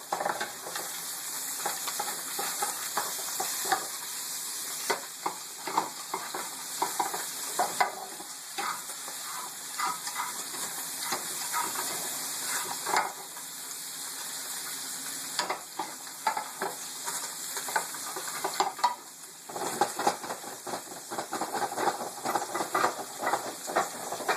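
Potatoes fry and sizzle steadily in a pan, a continuous crackling hiss with frequent stirring and scraping sounds throughout, fairly close and with no talking.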